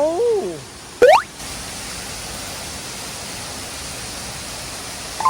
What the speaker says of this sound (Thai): ก็จะได้ยินเสียงน้ำตกใดๆ ไปกับพันไม้ที่ยิ่งใหญ่